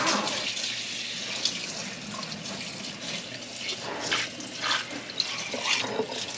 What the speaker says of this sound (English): So I'm going to just rinse this with cold water.